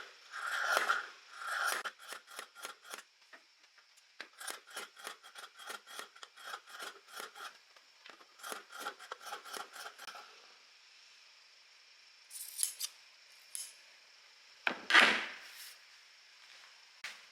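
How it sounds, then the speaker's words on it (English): Scissors snip through fabric to trim excess seam allowance on a thin-strapped black sewing project, a long run of quick, close, rhythmic cuts with brief pauses and a few louder snips near the end, no talking. "And now you can cut off some of that extra seam allowance"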